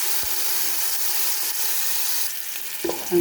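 Tomato paste hits hot oil with a little ghee in a pan for prawn biryani. A steady, moderate hiss of frying continues alone, then ends in a brief clatter and a louder knock.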